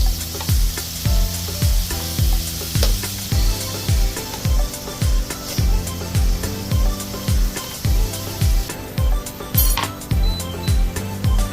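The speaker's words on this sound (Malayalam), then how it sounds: "ചെമ്മീൻ ഒരു ശേഷം നമുക്ക് മറ്റേ ഭാഗം ഒന്ന് മറിച്ചിട്ട് കൊടുക്കാം" Prawns sizzle and fry in a hot pan for a Filipino bitter gourd dish, with loud, rhythmic scraping and flipping strokes repeating every second or so over the steady crackle.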